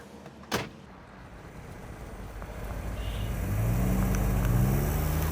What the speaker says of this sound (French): Celle qui arrive là, c'est mon dernier bébé que je viens de terminer, une Chevrolet Impala de 1960.